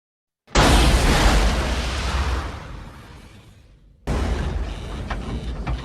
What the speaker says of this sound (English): There was an explosion in one of the fuel cells